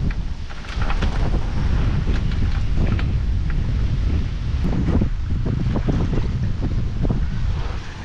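Strong, continuous wind at a van campsite buffets the microphone with loud, gusting rumbles and a steady rushing roar throughout.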